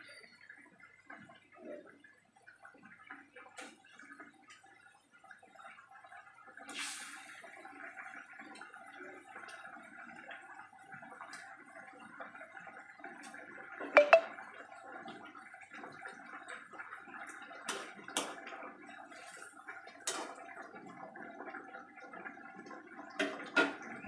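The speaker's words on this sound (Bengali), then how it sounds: "ঝোলটা ফুটে এসেছে। এবার আমি ঝোলের মধ্যে একে একে মাছগুলোকে ছেড়ে দেবো।" Fish pieces are slipped one by one into a simmering Bengali fish curry broth, giving faint bubbling, gurgling and soft splashes, with a few sharper plops standing out over a low, steady simmer.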